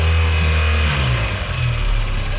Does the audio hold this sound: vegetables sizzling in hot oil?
no